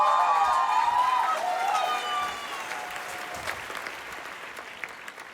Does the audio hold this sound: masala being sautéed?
no